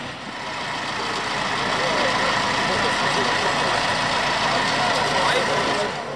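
A tractor engine idles loudly nearby at an agricultural fair in Lublin, a steady, low, grumbling drone. A murmur of voices may run underneath.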